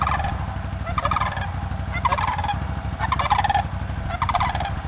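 Two trumpeter swans call in a series of about five loud, brassy honks at a steady pace, over a constant low rumble.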